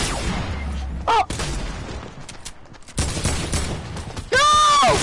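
A grenade blasts in a Fortnite battle: loud, sharp booming bursts amid game gunfire and clatter, the heaviest hit landing near the end.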